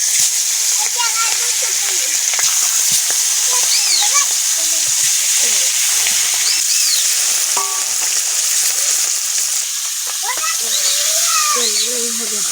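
Pond fish frying in mustard oil, a steady bright sizzle throughout with brief clinks and a voice speaking intermittently over it.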